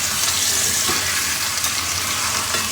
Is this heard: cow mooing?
no